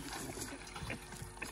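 Water runs from a pump into a sprayer being filled to fumigate an alfalfa field, a faint, steady rushing wash that continues throughout with no talking.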